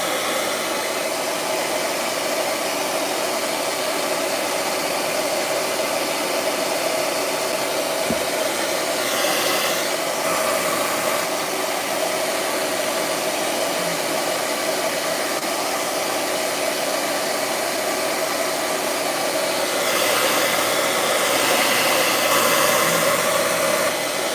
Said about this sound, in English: Let me blow dry this real quick.